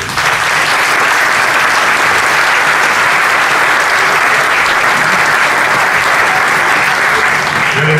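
An audience at a book presentation claps steadily for the whole stretch, a dense and loud wash of many hands with no break and no clear voices above it.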